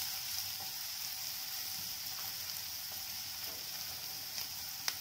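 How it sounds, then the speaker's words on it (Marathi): Onions sautéing with cloves and cardamom in a pan for butter chicken give off a steady, soft sizzle with a few faint stirring clicks, heard alone and fairly quiet. "लवंग, विलायची, व्यवस्थित परतून घेऊयात कांदे।"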